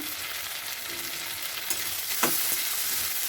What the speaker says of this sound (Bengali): চিংড়ি মাছের মাথাগুলো নুন হলুদ দিয়ে মাখানো ছিল সেগুলো ভেজে দিলাম